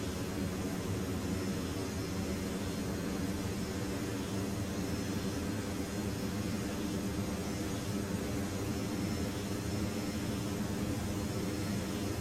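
An airliner's engines drone steadily during the climb in the FSX flight simulator, a constant, broad rushing hum that stays even throughout with no talk.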